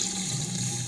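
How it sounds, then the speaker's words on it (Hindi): Steady, close running water with a full hissing rush, like water poured from a tap into a pot of beef korma, continuing without a break. "अब हम इसमें डालेंगे पानी"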